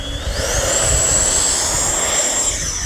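An FMS F-16 70mm electric ducted-fan RC jet spools up to full throttle for takeoff, a loud close whine rising in pitch and holding as a steady high-pitched scream over a rushing roar.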